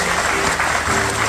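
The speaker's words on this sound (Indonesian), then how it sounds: "Oke, kan tepuk tangan dulu lah buat Mbak." Studio audience applause on an Indonesian television talk show, a loud, steady, dense roar of many hands clapping together throughout.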